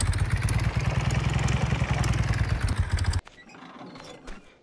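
Motorcycle engine running in the Farmers Life farming game, a loud, steady chugging idle that holds for about three seconds and then cuts off abruptly, leaving a quiet tail with faint clatter.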